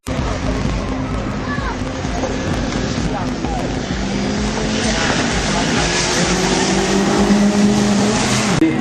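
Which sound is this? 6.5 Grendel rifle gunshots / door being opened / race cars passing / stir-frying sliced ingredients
race cars passing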